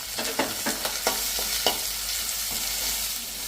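Steady sizzling of onions and curry leaves frying in a hot pan with a few scraping stirs, no voices.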